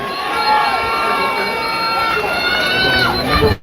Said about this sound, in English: Give yourselves a big round of applause once again.